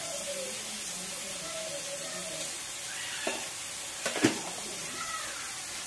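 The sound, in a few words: ginger garlic paste frying in oil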